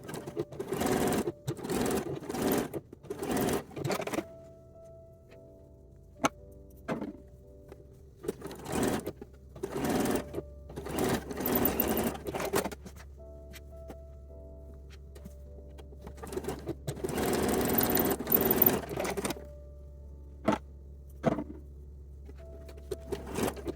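A domestic sewing machine runs in short whirring bursts of stitching as it finishes a picot edge on a corset back, separated by pauses and a faint low hum, nearby with no talk.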